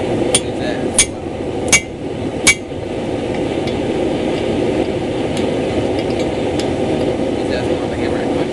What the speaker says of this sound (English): Take this planishing hammer.